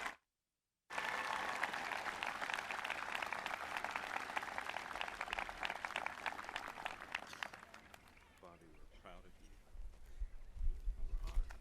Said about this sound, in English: please give a round of applause for 2016 Distinguished Alumni